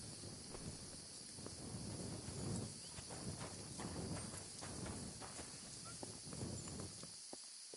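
Horse hooves in Kingdom Come: Deliverance 2 clip-clop at a walking pace over a steady hiss of wind and outdoor ambience, moderately close and fairly soft.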